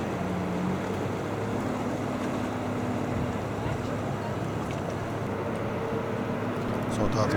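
A patrol boat with four motors runs on a river, giving a steady loud engine drone mixed with wind and water wash throughout, with no pauses.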